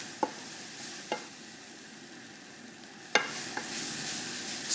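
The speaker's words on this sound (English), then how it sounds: "So give it a stir and get all those flavours working together now." Vegetables and beef sear in a pan with a soft, steady sizzle, while a utensil scrapes and knocks against the pan a few times at irregular intervals.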